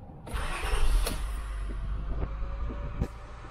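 A parked 2000 Acura 3.2 TL idles steadily up close, a low continuous engine rumble with a few faint clicks and knocks over it and no talk.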